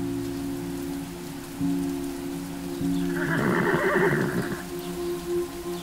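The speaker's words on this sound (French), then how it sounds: "Le cheval se mit à hennir, un cri déchirant qui résonna à travers les arbres." A horse in the Star Stable video game lets out a single loud, shrill neigh over steady falling rain and a low droning hum, the whinny rising and trembling for about a second and a half.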